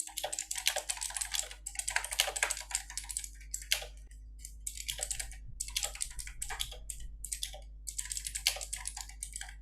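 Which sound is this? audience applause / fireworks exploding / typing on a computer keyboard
typing on a computer keyboard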